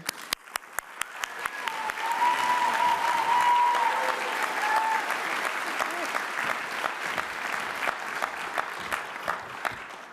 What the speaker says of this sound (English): Join me in a big round of applause and congratulations for Gail Goodman.